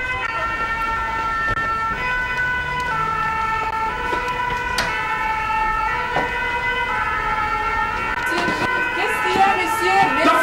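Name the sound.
ambulance siren passing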